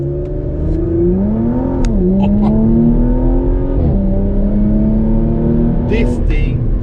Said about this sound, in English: it automatically puts the car in the loudest setting when you put it in the Sport Plus mode, and off we'll go.